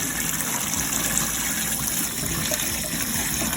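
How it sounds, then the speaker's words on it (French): Dry lentils rinsed in a colander under running water, a steady close gush and splash of water lasting throughout with no pauses. "c'est les lentilles sèches, on va d'abord les nettoyer. Donc, on va les rincer."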